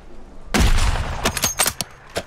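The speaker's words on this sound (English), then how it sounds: "You're being sniped." Sniper rifle fire in Call of Duty: Warzone, a heavy nearby shot followed by several sharper cracks and impacts in an irregular burst, with no talk.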